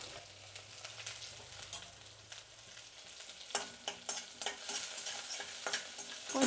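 Garlic and dried red chillies fry in hot oil for a tempering, a steady close sizzle with clicks of stirring that grows louder and busier in the second half.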